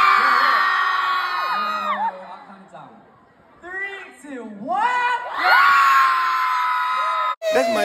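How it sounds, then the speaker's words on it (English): Crowd of fans at a K-pop idol's birthday party event in Atlanta screams and whoops loudly in sustained bursts, dropping briefly then surging again, with high-pitched voices dominating throughout. "Can you guys scream one more time?"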